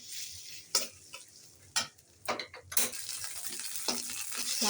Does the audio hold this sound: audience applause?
no